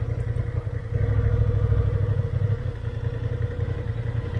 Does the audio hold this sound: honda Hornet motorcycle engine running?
yes